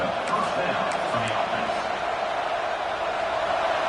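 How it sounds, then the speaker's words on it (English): College football stadium crowd, a continuous loud roar that stays level throughout, with indistinct voices mixed into the din. "This crowd trying to make life miserable for this offense."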